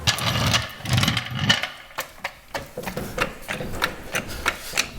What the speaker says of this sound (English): I'm gonna cut the exhaust.